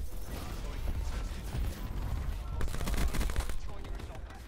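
Dense automatic gunfire in Call of Duty: Black Ops 4 multiplayer, a continuous loud rattle of overlapping rapid shots with metallic mechanical clatter that swells toward the middle.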